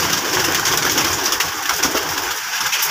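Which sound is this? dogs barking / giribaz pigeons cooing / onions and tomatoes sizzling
giribaz pigeons cooing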